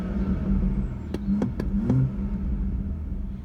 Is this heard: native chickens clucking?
no